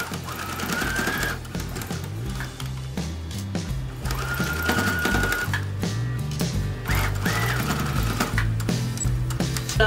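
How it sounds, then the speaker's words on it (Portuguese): A sewing machine stitches the pleats on a fabric pouch, running in several close rhythmic bursts of rapid clattering needle strokes with short stops between them and no talking. "nós vamos para a máquina passar uma costurinha, uma de cada lado, bem na pontinha. Então, agora vamos costurar."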